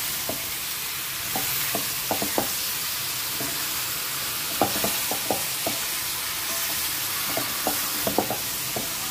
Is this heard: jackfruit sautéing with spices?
yes